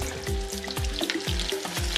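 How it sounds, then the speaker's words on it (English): Food sizzles and crackles steadily in a hot pan, with soft rhythmic scraping as it's stirred. "you just run it through the butter on the frying pan every time"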